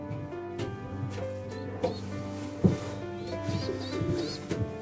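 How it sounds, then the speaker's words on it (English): A large baby pigeon near weaning age in a loft gives soft cooing calls with a few rubbing and handling knocks, close by, with no talking. "so this is a big pigeon, a big baby pigeon"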